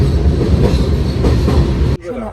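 Passenger train running on rails in West Bengal on a journey toward Darjeeling, a loud, steady rolling rumble heard from inside the carriage that cuts off abruptly near the end.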